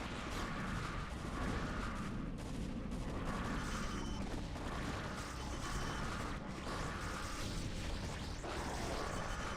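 Cannons fire on Guardians during a StarCraft Brood War team game: dense rolling gunfire and explosion bursts that come in repeated waves, loud and continuous, with no talking.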